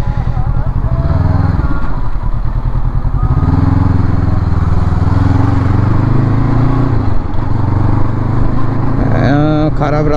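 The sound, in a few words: Honda NX500 twin-cylinder motorcycle engine riding in 4th gear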